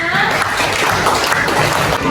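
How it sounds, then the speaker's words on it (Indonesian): Classroom of students applauding together, a dense steady wash of clapping that fills the whole moment, with a few young voices and chuckles mixed in. "Tepuk tangan untuk kita semua."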